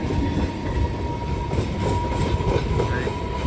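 A passenger train running on rails near the Chennai port area, with a continuous loud rumble, repeated wheel clatter and a steady whine, heard from inside the moving train.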